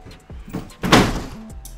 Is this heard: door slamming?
yes